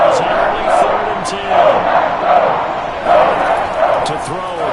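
A large football stadium crowd roars and cheers in swelling waves before a third-down snap, loud and continuous, with a commentator's voice running over it.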